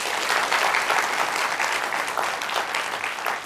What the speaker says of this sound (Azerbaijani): alqışlarınızla növbəti skeçi elan eləmək istəyirəm